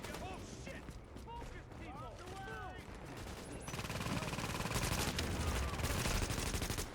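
A deployed auto turret fires at enemies in the shooter game The Division, a long rapid burst of gunfire that grows louder and denser, with players talking over it.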